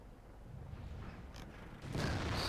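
Tank cannon fire in the World of Tanks video game: muffled booming shots break through a constant rumbling game background, with a heavier burst toward the end.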